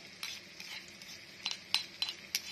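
Garlic, white pepper and coriander root paste stir-fried in a pan for rice porridge with pork, with a soft sizzle and several sharp metallic clinks of the utensil scraping and tapping the pan.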